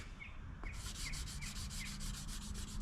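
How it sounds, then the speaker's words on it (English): Steady hand sanding on a car wheel, working the old base and clear coat level, makes a rhythmic back-and-forth rubbing with regular strokes about every half second, close and continuous, with faint bird chirps in the background. "And I'm sanding down the high stuff,"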